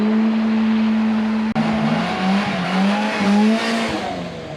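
Polaris Slingshot doing a burnout on a private strip, its engine holding a loud, steady high-rev drone with tire squeal layered on top, close and continuous.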